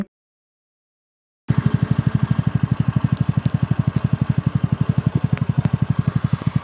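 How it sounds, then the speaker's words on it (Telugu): A 2024 TVS Ntorq 125 scooter engine starts after a second of silence and idles with a fast, even putter, close and fairly loud, alone. "ఇంక ఈ బైక్ సౌండ్ అయితే ఒకసారి వినండి ఎలా ఉందనేసి"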